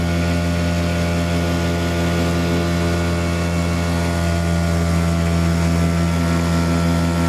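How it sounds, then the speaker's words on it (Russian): Outboard motor of a Korsar Komandor 430 boat running steadily, a loud continuous engine drone with a strong low hum that holds without a break throughout. "Саша на моторе идет."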